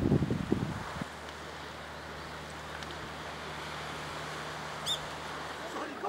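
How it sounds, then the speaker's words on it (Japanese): Steady wind rushes and distant ocean surf breaks at the tall sea cliffs of Sandanbeki in Shirahama, a low continuous roar with a brief gust at the start. "耳元に鳴り渡る風の音、そして波の音が深い生命力を感じさせる場所、白浜"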